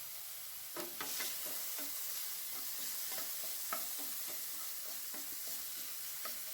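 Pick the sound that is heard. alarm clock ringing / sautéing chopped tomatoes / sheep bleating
sautéing chopped tomatoes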